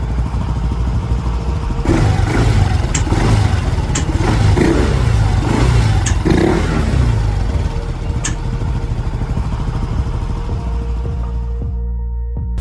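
The engine of a Yamaha Mio 125 MXi scooter runs close by with a steady low drone and a series of revs. Sharp popping bursts from the exhaust break through during the throttle blips, and the sound cuts off abruptly at the end.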